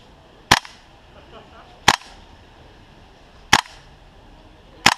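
A WE SMG-8 airsoft gun fires four single shots during a chronograph test, each a sharp, loud crack spaced about one and a half seconds apart over a quiet background.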